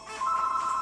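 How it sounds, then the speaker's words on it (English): Telephone bell ringing during a televised Jeopardy-style game show broadcast, a single steady electronic ring tone, fairly loud and close, with no voices over it. "See who that is on the phone."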